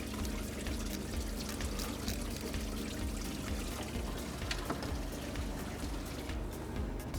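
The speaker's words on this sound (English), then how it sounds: "you should put something underneath because the water is going to be coming out" Coolant water draining from a 3rd-generation Mitsubishi Montero during water pump removal: a continuous splashing pour with trickling drips, steady and close.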